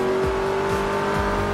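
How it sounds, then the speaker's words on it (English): A car engine roars steadily in the racing video game Forza Motorsport 3, loud and sustained, with a continuous tonal drone and faint rhythmic pulses underneath. "the default audio options prioritize the satisfying roar of a car's engine"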